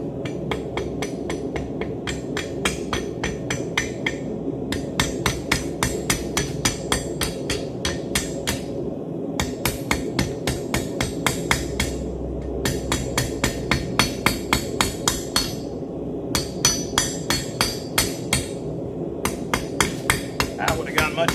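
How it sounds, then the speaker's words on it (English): A blacksmith peens over forged metal with a hand hammer, striking in rapid, steady rhythmic runs of sharp ringing blows with brief pauses between bursts, loud and close throughout. "Forgot to peen that over."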